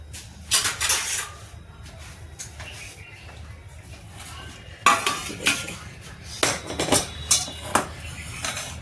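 Metal spoon scraping and clinking against a pot while moong dal khichdi is served, in several bursts of clatter with quiet pauses between.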